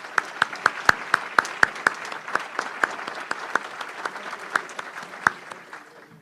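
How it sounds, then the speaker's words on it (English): A modest audience at a Rotary Club meeting applauds, individual claps standing out crisply over a softer patter of hands, steady for several seconds and thinning toward the end. "Let's give them a round of applause"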